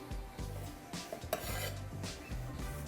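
Fresh chopped herbs being stirred into a ricotta mixture in a bowl for weeknight lasagna: quiet scraping and clinking of a utensil against the bowl in uneven strokes, close up and unaccompanied by speech.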